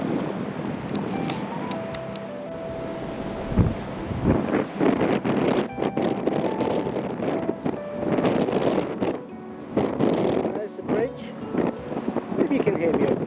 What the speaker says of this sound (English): You can hear me over the wind